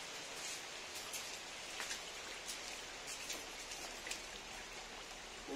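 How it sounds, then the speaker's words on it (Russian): Steady summer rain patters on a wet surface and puddle, raising bubbles, a dense even hiss with scattered individual drops, continuous and close by. "Дождик пошел у нас, да?"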